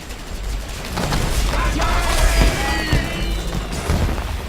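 Minigun fire in the real-time strategy game Dawn of War 3, a continuous roaring barrage of rapid shots and explosions over rumbling battle noise, with whining tonal effects layered on top.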